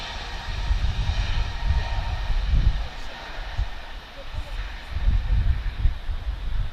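Turkish Airlines jet engines howl at Lisbon Airport, a loud broad roar with a high whine layered on top that swells and fades across the whole stretch, with a voice talking over it.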